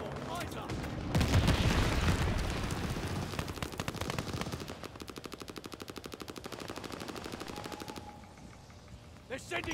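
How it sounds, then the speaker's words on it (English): Mortar shells exploding in the Call of Duty Vanguard video game, a loud burst of blasts followed by rapid rattling fire that fades toward the end, with a voice speaking over it. "They're sending mortar shells!"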